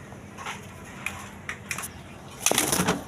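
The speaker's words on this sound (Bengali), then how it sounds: "সুস্থ সবল কবুতর একদম রানিং মাদি" Colored Rajgolla pigeons, healthy breeding hens, make a few soft coos and short fluttering bursts against a low background hum, ending in a louder flurry near the end.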